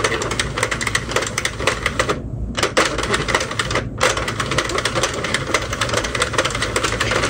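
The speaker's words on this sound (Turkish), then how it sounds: "Şimdi kulpu çevirerek örmeye başlayabiliriz." A hand-cranked knitting machine knits yarn with a steady, close, loud rapid clatter of clicking needles and carriage, pausing briefly twice before resuming.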